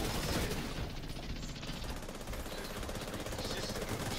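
Dense shotgun gunfire in The Division 2, a loud, continuous barrage of shots and combat noise with no pauses, filling the whole stretch.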